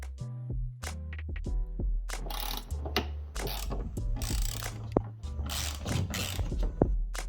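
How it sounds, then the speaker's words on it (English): A ratchet backs out Torx screws from the tailgate trim of a VW Passat B7 Variant, giving repeated close, crisp clicking bursts with short pauses between strokes and no talking. "Unscrew 4 Torx screws."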